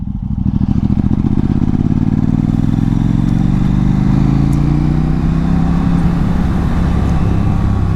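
A KTM 790 Duke motorcycle pulling in third gear at low revs, around 1300 RPM and 16 mph, its engine thumping loud and close in a steady pulsing beat with a slight rise in pitch as it accelerates.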